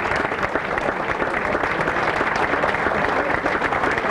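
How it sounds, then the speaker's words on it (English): Loud, dense audience applause at a sports hall of fame banquet as officials stand, a continuous roar of many hands clapping throughout. "I wanted them to experience applause as well"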